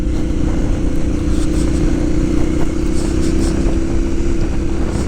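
A KTM 990 Adventure S motorcycle cruises at steady, moderate throttle, its engine a constant loud drone with wind rush and occasional light clatter, no hard acceleration.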